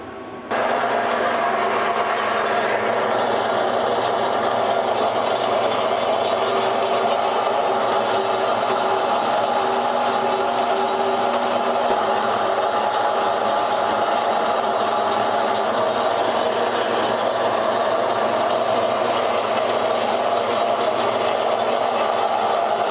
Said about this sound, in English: I'm just going to take this to the bandsaw and cut out the center section that's left over.